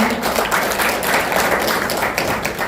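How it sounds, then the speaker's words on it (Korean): A crowd applauding steadily, dense continuous clapping from a room full of people, loud and close throughout. "박수 부탁드립니다."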